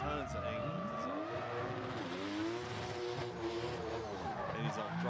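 A drift car at Ebisu Circuit's West Course in Fukushima, during a qualifying run, revs hard on throttle with rising and falling engine howls and tire noise, loud and sustained throughout, with a commentator talking over it.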